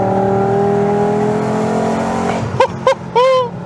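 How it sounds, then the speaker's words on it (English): Volkswagen Golf VR5 engine revving loudly from inside the car, a sustained droning note that fades, then three short sharp blips of throttle near the end. "I don't care that this car is slow, because listen to that!"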